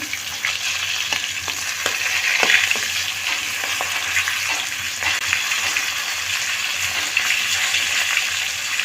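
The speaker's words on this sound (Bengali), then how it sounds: "এখন আমি একটু করে ভেজে নেবো" Shapla pata fish pieces frying in oil in a pan, a loud continuous sizzle with scattered sharp crackles and pops, heard close up throughout with no talk.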